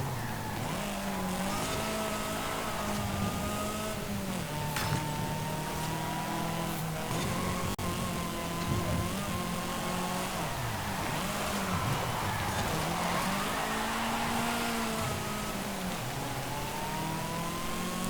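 Racing car engines in Forza Horizon 5 during a seasonal championship race, including a Mitsubishi Starion, roaring steadily throughout with rising and falling revs and gear changes, loud and continuous.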